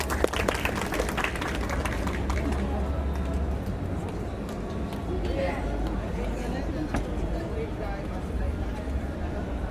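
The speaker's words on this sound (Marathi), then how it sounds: "जोरदार टाळ्या" Audience applause and clapping at a Bhim Jayanti celebration, a steady wash of many hands sustained for about ten seconds with crowd babble mixed in.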